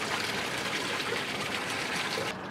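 Water gushes steadily from the open drain pipe of a Yamaha 222 FSH boat, a continuous close rushing flow that holds nearly even throughout.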